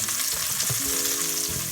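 Onions and garlic for a risotto fry steadily in a pan on medium heat, a close, continuous hiss and crackle with a short stir-like clatter partway through, no voices over it.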